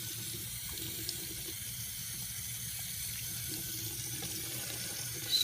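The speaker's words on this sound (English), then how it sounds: "So I am going to turn the water on." Steady running water from a sink tap while cloth pads are rubbed to lift stains, a constant close hiss and splash with faint handling sounds.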